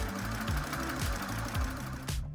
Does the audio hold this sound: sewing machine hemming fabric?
yes